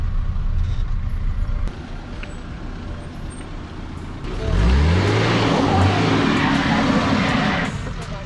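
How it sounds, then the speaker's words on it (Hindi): A Mahindra Thar driven off-road, its engine idling at first and then revving hard partway through with rising whines, the roar staying loud before easing near the end, while people talk over it. "थार को आज पहली बार ही मैं ऑफ रोड पे लेके जा रहा हूँ"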